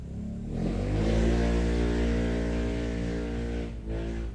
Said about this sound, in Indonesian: Maaf, ada motor.